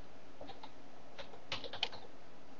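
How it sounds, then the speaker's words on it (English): Someone types diskpart on a computer keyboard, producing short, quiet bursts of light key clicks with a couple of sharper taps near the end. "Go to Start, type in diskpart"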